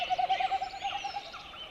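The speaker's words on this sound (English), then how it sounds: "So that's a pretty good recording of a Wilson snipe." A Wilson's snipe in Pacific Northwest wilds gives a rapid, evenly pulsed series of soft hooting notes, steady and moderately distant over a constant airy background hiss.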